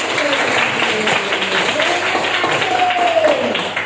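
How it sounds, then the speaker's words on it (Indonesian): Classroom of students clapping together in a steady, dense patter at close range, with children's voices calling out over it. "Ayo kita tepuk tangan untuk semangat."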